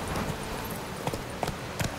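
Horse hooves in The Witcher 3: Wild Hunt, a few light clip-clop beats spaced unevenly over a soft ambient bed.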